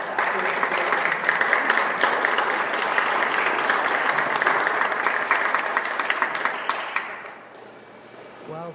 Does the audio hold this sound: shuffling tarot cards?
no